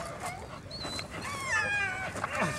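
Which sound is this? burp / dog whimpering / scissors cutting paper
dog whimpering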